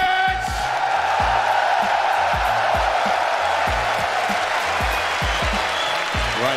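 Arena crowd at the CS:GO FACEIT Major 2018 grand final in London, Natus Vincere versus Astralis, roaring, cheering and clapping in a continuous wash over a thumping, steady music beat.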